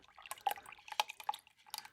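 Liquid trickles out of a jar being swirled, producing a few faint, irregular drips and splashes over two seconds, close and quiet.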